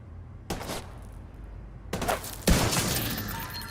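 Video game gunfire: a single sharp shot, a pause, then two more close, loud reports in quick succession, the last leaving a lingering noisy tail. No one speaks.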